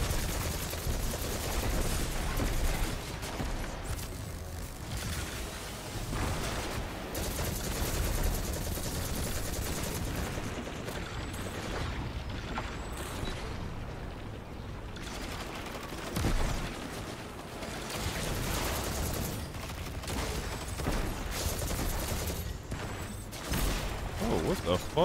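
Near-continuous gunfire in the video game Destiny, dense rapid shots and bursts running loud for the whole stretch, with brief lulls and mechanical clatter mixed in.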